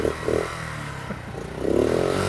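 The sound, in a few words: small motorcycle engine revving as clutch is feathered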